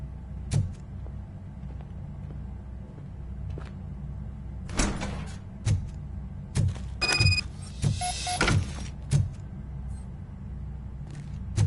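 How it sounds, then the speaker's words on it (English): A door opens in the RoboCop: Rogue City video game with a series of mechanical clunks and whooshing sliding bursts, followed by knocks and an electronic tone, against a low steady hum. "Now let me get that door open for you."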